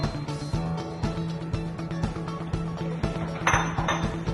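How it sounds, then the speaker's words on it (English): Utensil clinking against a mixing bowl while sugar is stirred into banana bread batter, a steady run of close, light taps and scrapes at a regular rhythm with no talk. "Mix that together in my bowl until it's combined."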